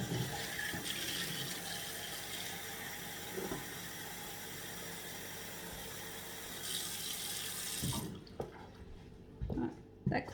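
Water being changed while working on a Turkish lamp, a steady running and splashing stream like a tap filling a sink, fairly faint and continuous, then stopping near the end with a few knocks and brief voices.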